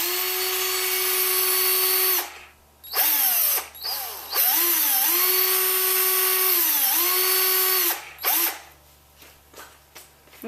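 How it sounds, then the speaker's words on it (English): A power drill bores out the air restrictor inside a Nerf Dart Tag Sharp Shot blaster's plunger tube, the motor whining in several bursts that ramp up and down in pitch, close and loud, with short pauses between runs. "you're going to want to drill the air restrictor out"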